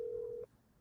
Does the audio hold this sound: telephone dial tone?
yes